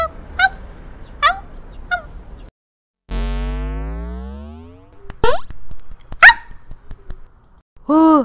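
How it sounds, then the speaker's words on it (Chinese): A tiny cartoon puppy gives a series of short, high, squeaky yelps and whimpering cries, separated by brief silences and punctuated by a long sliding boing-like tone. "哦，好小的狗狗哦"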